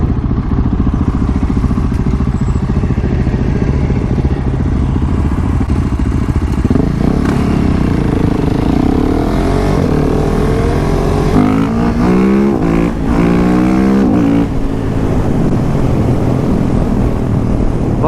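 A Mitsubishi Evo car and a 450 motorcycle race on a street at Mt Druitt, loud engine roar throughout with rising and falling revving pitch sweeps as the vehicles accelerate and pass close by.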